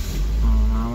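A 2005 Toyota Vios engine cranks and catches, a short, loud burst of starter churn settling into a low idle hum up close, with a voice briefly audible.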